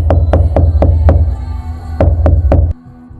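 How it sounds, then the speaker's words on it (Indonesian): Loud, heavy knocking on a door, close and forceful: a rapid series of five thuds, a short pause, then three more before it stops, with a low rumbling bed underneath. "terdengar suara ketukan pintu keras"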